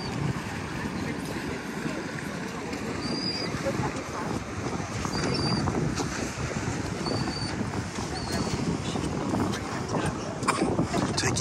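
Steady wind buffeting the microphone on the Naples Pier on a quiet morning, a continuous broadband rush with gusty swells and faint surf beneath, running alone throughout.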